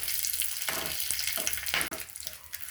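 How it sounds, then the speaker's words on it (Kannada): Mustard seeds and urad dal sizzling in hot oil as a tempering for peanut chutney, a steady close crackling hiss with brief sharper pops throughout. "ಒಗ್ಗರಣೆ ರೆಡಿ ಆಗ್ತಾ ಇದೆ."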